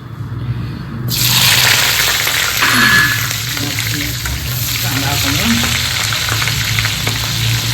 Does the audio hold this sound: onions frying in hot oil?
yes